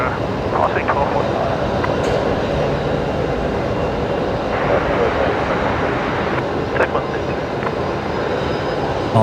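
A jet airliner departs runway 19 at Brisbane Airport, its broad engine roar steady and loud throughout, with voices talking over it.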